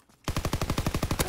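PPSH-41 submachine gun firing in the video game Call of Duty: WW2, one close, loud, rapid automatic burst of about a dozen evenly spaced shots, starting abruptly after a brief quiet moment.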